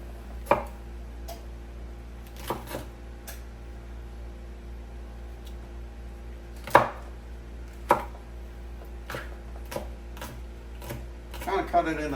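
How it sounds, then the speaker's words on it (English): A knife chops jalapeños on a cutting board for fresh homemade salsa, a few sharp, scattered thuds spaced seconds apart, close up, with a faint steady hum underneath. "Kind of cut it into fourths like I did with the tomatoes."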